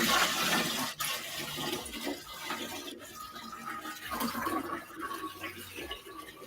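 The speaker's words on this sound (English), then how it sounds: "We're ready to add water." Filtered water is poured out in measured amounts in a kitchen, a rushing, gurgling stream that stays loud and fairly steady with small shifts in flow.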